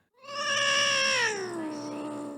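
A cat called Junior gives one long, loud meow that slides downward in pitch as it fades, heard alone and close without any talking.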